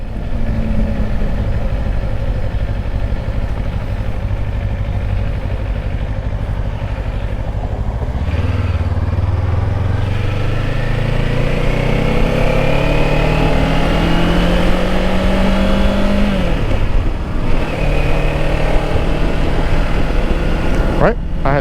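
A 2024 Kawasaki Ninja 500 KRT SE ABS motorcycle being ridden, its engine droning steadily up close with a rising pitch as it accelerates through the gears and a dip as it eases off, mixed with road and wind noise.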